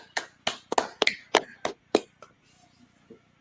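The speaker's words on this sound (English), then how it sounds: "Let's clap it up." A classroom audience claps in a sparse, uneven burst of about nine sharp hand claps over roughly two seconds, then falls quiet; a few voices murmur faintly underneath.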